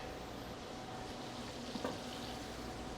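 Plant-based burger patties sizzle in a cast iron skillet, a soft, steady frying hiss at low level with a brief clink partway through and no voices.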